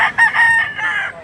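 A rooster crows close by at a livestock auction market in Lipa City, Batangas, one loud strained call lasting just over a second, standing on its own.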